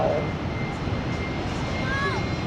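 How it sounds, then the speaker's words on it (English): General Electric jet engines on a C-5M Super Galaxy spool up at an air show, a loud continuous roar with rising whine, while people talk over it. "It includes fitting new General Electric F138s, which are winding up now."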